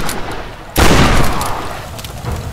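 A sudden loud explosion blast in the 2013 Tomb Raider game bursts in close after a quieter stretch of gunfire, then its rumble slowly decays.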